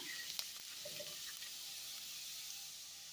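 Garlic sautéing in oil in a pan for an eggplant dish, a steady even hiss of sizzling that runs throughout, moderately quiet, with a few faint clicks near the start and no voices.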